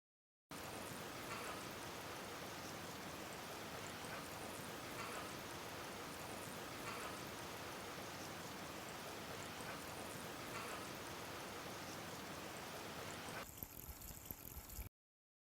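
Water pours steadily into a container of glass beads, a continuous hissing, trickling wash that holds at an even level for about thirteen seconds before shifting and cutting off.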